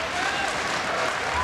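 Fans at the 1996 IHSA men's gymnastics finals applaud together, a dense, steady wash of clapping from a large crowd that fills the whole moment without a break.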